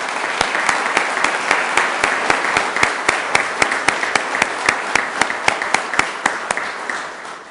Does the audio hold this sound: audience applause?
yes